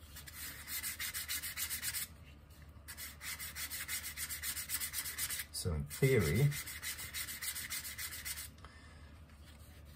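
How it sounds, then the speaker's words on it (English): Aggressive sandpaper is rubbed hard across a vintage leather strop in fast back-and-forth rasping strokes, close and continuous, with a couple of short pauses and a brief spoken remark in the middle. "I'm sanding quite aggressively, and it's a rather aggressive sandpaper."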